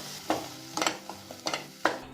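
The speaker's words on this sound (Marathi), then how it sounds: "आता हा मसाला व्यवस्थित आपल्याला ढवळून घ्यायचा आहे तेलामध्ये." A spoon stirs masala through hot oil in a pan. Several sharp scraping strokes sit over a low, continuous sizzle, with no speech.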